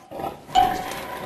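Young pig in a pigsty grunting at feeding time, a brief close snort that swells partway through with faint background clatter, no talking.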